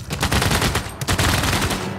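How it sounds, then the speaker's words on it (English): Rapid rat-a-tat bursts of late-game gunfire in the strategy game Civilization VI, dense and loud, with a brief break near the middle before the volley resumes. "The combat sounds are good, but some of the later game guns sound a bit rat-a-tatty."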